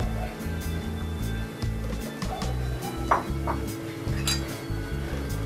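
Spoon stirring sambar in a metal pot on a gas stove after a handful of coriander leaves goes in, with repeated light clinks and scrapes against the pot over a steady low hum.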